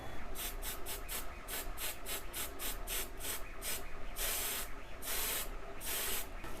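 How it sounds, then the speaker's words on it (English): Dark green spray paint hisses from a can onto a miniature model tree inside a spray box: a rapid run of short, loud, close bursts, then a few longer sprays at the end. "So now we need to take it to the box and spray it."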